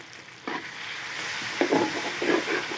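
Onions sautéed with spices, stirred together with a cup of fresh cream in a pan for malai pyaz sabzi, giving a soft steady sizzle with scraping stir strokes that grow busier toward the end.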